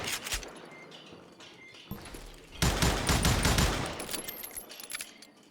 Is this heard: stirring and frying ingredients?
no